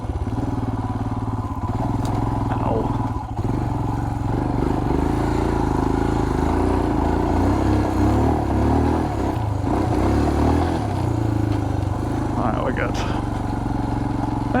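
A Royal Enfield Himalayan motorcycle ridden through sand in first gear on Mitas E-09 Dakar tyres, its steady engine drone running loud and close throughout with occasional thumps and clatter, and a voice speaking over it.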